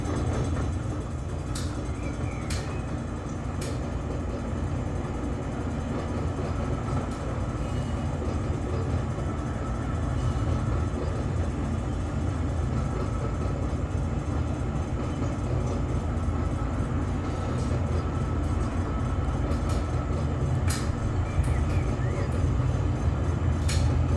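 A freight train led by Dash-9 locomotives with distributed power units rumbles along in the Run 8 train simulator, a steady, dense low mechanical roar with faint clicks and squeals over it.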